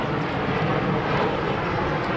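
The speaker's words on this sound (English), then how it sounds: "Whoa, got an airplane." An airplane passes over a house, a steady, loud broadband roar of engine noise that fills the whole moment without a break.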